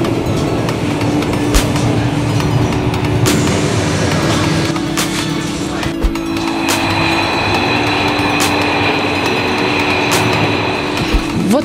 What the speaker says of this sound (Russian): Вот мы обкатали новый Штадлер, все 14 станций мы проехали в комфорте, в тишине